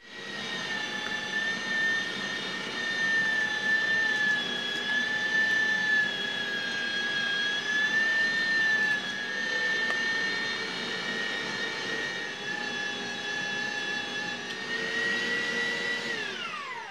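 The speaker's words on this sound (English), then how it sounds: "This electric grinder is really working really nice." An electric meat grinder whirs steadily while grinding meat seasoned with marjoram and garlic for homemade Polish sausage, a loud continuous motor drone with a slight wavering pitch and a dip in load near the end.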